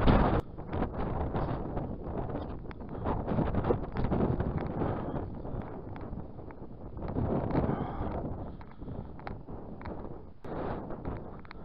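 Steady wind buffets the microphone across an open field during a DLG glider flying session, a continuous loud broadband rumble with gusts swelling and easing throughout, no one talking.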